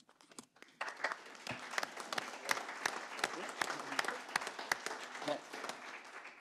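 An audience at a town council meeting in Saint-Zotique claps, scattered claps building into sustained applause with sharp individual hand strikes standing out, moderately close.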